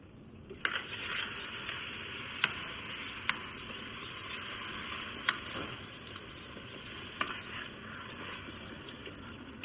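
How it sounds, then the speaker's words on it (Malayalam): Two litres of milk pour into a pan for Arabi semiya payasam, making a continuous rushing, hissing wash of sound with a few faint clicks spaced throughout. "അപ്പോൾ അതിലേക്ക് നമുക്കിപ്പോൾ ഒന്ന് കുറച്ച് പാൽ ഒഴിക്കാം."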